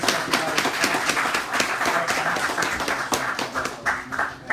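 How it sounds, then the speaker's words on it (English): Crowd applause at a City Island community meeting: steady, dense clapping from many hands filling the room for several seconds, close and moderately loud with no speech over it. "Let's all give a round of applause."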